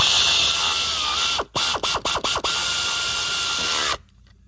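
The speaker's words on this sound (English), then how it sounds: "So I'm going to get the air ratchet and I'm going to snug those up." An air ratchet whirs in a steady high buzz while snugging bolts on a 2017 Chevy Traverse during spark plug work, broken by a handful of quick stop-start bursts before it cuts off.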